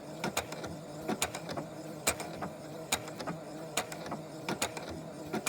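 A sewing machine stitching along the edge of red fabric for a pillow cover, with a soft, quiet, steady mechanical whir and small regular clicks and taps of the needle.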